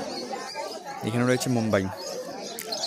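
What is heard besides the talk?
Bombay pigeons cooing at a pigeon market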